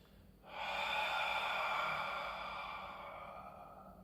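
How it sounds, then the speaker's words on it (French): A long, steady exhalation through the mouth during a Pilates exercise, starting abruptly and fading slowly over several seconds, close and breathy with no talking. "J'expire, j'expire, j'expire."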